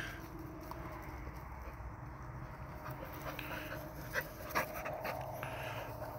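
Several English Springer Spaniel puppies pant and shuffle about close by, with soft patter of small paws and a couple of brief louder bumps, a steady low-level bustle with no speech.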